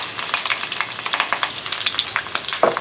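Garlic frying in olive oil sizzles and crackles steadily up close, with quick popping bursts throughout and a brief scrape of stirring near the end.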